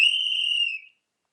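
A race-start whistle gives one shrill, steady blast that is loud and close, holds for just under a second, then cuts off into silence.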